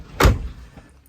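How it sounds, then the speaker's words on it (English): A caravan door, a Bailey Advance 76-4, swings open with a single short thump and rattle as its handle is pulled once the lock catch has been pushed in, followed by a faint settling knock. "To lock your door, just push this catch in, and then as soon as you go for the handle, it will open."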